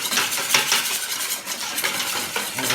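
Fromage blanc being beaten with a spoon in a bowl or glass, a close, steady wet scraping and clicking that keeps a fast, continuous rhythm for the whole clip.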